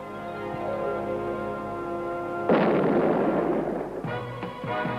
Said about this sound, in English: 93 yachts head for the line with less than a minute to go to the starting gun.